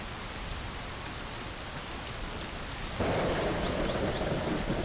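Steady rain with a rumble of thunder in the video game My Summer Car, a continuous broadband wash that grows louder and fuller partway through, with no voices.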